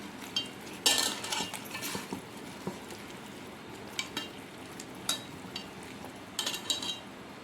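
Salt being mixed by hand into a chicken leg marinade for dum biryani, with soft wet squelches and scattered clinks of a utensil against the bowl, quiet and close, with no talk.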